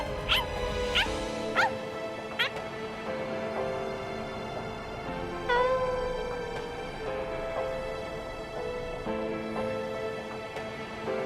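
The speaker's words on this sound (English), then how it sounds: "Stupid, annoying dog." A dog in the Bleach Rebirth of Souls video game gives several short yips and whimpers near the start and again midway, over a steady musical background.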